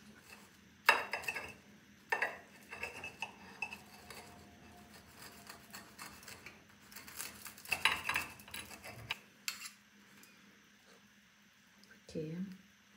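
A knife cutting a baked börek in a tray, giving scattered metallic scrapes and clinks against the pan at irregular intervals, close and fairly quiet, with a voice talking between the cuts.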